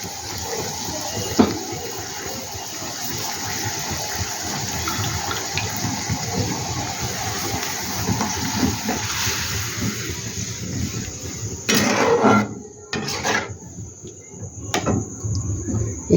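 Potato fingers frying in hot oil give a steady, dense sizzle with a bright hiss, which breaks into a few sharper bursts and brief drops near the end.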